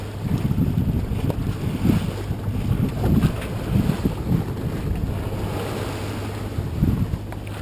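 Sea waves surge and wash around a sailboat off the coast of Mexico in a steady, rolling roar, with low bursts of swell and gusts of wind buffeting the microphone throughout. No one speaks.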